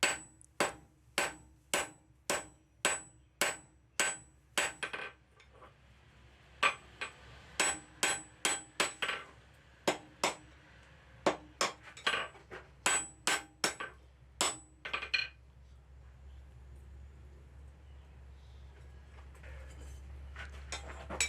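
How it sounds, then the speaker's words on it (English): Cross peen hammer striking hot steel tong blanks on an anvil, a long series of sharp, ringing metallic blows in steady rhythmic bursts with short pauses, loud and close, ending in a quiet room tone. "Here I've switched over to the cross peen and I am spreading that material as far as I can."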